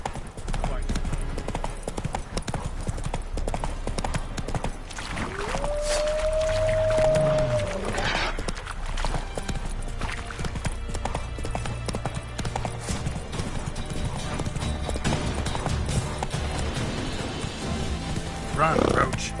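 Video game hoofbeats of the horse Roach galloping in a steady clip-clop rhythm, with a brief whinny-like tone and speech over the action.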